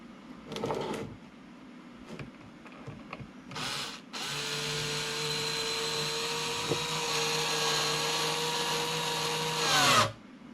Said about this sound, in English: handheld screwdriver. Really nice and handy to have these power tools.